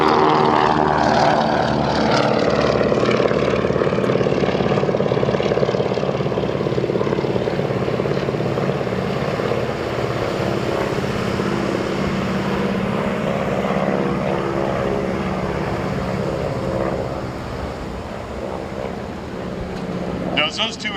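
A Beechcraft C-45 twin-engine propeller aircraft flies past at the Wings Over Houston airshow, its loud droning engine roar shifting in pitch as it passes and then slowly fading, with people talking underneath.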